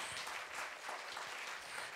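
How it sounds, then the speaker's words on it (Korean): An outdoor audience claps after a lively Saturday traditional performance on a windy day, a faint, distant, continuous patter of many hands. "다시 한번 박수 부탁드립니다."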